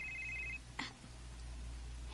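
An incoming call on a mobile phone brings a short, quiet electronic ring tone lasting about half a second over a low background hum, followed by a soft clunk.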